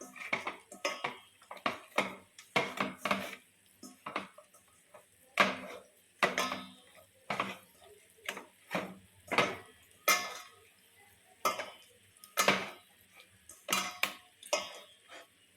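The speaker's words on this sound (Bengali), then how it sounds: "তো চলো মাছটাকে মিক্স করে নিই ভালো করে। নুন হলুদ দিয়ে এটাকে মাখিয়ে নিতে হবে।" Fish being mixed with salt and turmeric in a bowl, a series of irregular clinks and scrapes of utensil against bowl, close and fairly loud, alone without talk.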